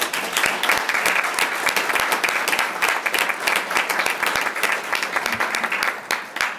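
A school board meeting audience applauds the district energy team, dense sustained clapping from a full room that stays loud and even for several seconds before tapering slightly at the end.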